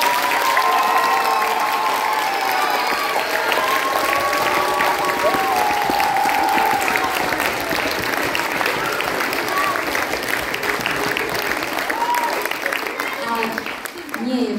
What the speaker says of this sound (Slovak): Takže ešte raz veľký potlesk.